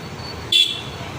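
A single short car horn toot, sharp and fairly close, rises above steady road traffic noise on a congested city road in Chennai.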